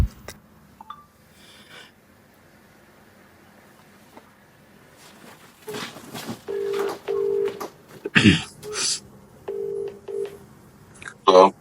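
A phone's keypad tones beep in short bursts, with brief electronic tones and clicks, close by.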